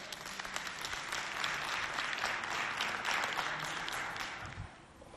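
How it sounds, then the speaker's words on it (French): A crowd at a show applauds steadily, a continuous wash of many hands clapping at moderate distance, sustained for several seconds before tapering off slightly, with no clear talk over it. "Applaudissez pour elle"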